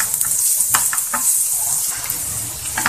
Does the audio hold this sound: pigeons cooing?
no